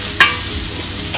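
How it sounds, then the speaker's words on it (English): Roughly chopped onion sizzles in a heated pan as it is stirred, a soft crackling fry with a brief clink of a utensil near the start. "So let's start frying. Once the pan is heated up, in goes the onion, okay, just roughly chopped with mine."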